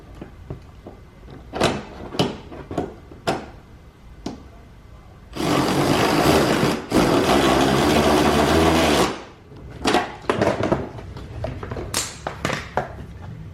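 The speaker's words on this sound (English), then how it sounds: "Okay, so we've got our number 10 bolts started. Now we'll tighten it up." Power tool driving number 10 bolts on a 2005-2011 Cadillac STS during fog light work: sharp taps and clicks, then two sustained loud bursts of whirring, one after the other, followed by more scattered clicks.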